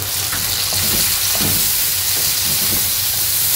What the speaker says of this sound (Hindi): लगातार चलाते हुए 2 मिनट फ्राई करेंगे